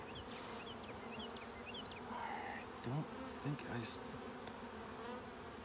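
Honeybees buzzing steadily around an opened Layens beehive, a faint continuous swarm hum with occasional individual bees passing close, quiet throughout.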